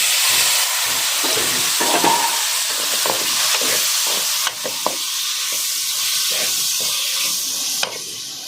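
Lemons added to hot spiced oil for a white lemon pickle give a steady loud sizzle and frying hiss, with scattered clinks and scrapes of stirring throughout and no voices.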